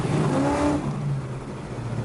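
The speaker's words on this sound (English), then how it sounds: "just giving it a little shot of gas." A 1964 Plymouth Belvedere engine revs up briefly with a rising whir, then settles back to a steady idle hum.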